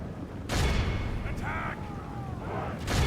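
Troops in a strategy game fire in volleys, heavy booming bursts starting at one point and returning near the end, with shouting and battle noise in between.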